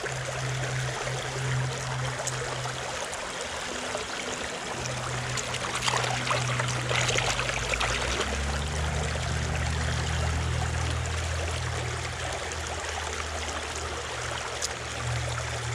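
Fast creek water rushes and burbles steadily nearby, a constant broadband gurgle with a low rumbling undertone that swells midway through.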